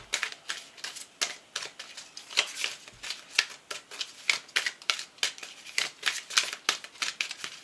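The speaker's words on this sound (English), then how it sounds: "let's get one more because I just kept shuffling" A deck of cards is shuffled over and over, each brisk papery riffle following the last in a steady rhythm, close to the listener. No one speaks.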